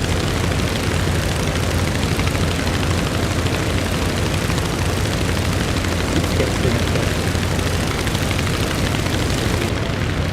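An aircraft roars past in Microsoft Flight Simulator 2024 near a seaport, a loud, dense, steady engine rush holding throughout with no clear rise or fade.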